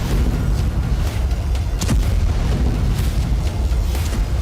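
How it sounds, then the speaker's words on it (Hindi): A loud, sustained rumbling boom, like a distant explosion rolling on, with a dense low roar and a few sharper cracks mixed in. "धरती के सीने पर एक जोरदार धमाका हुआ"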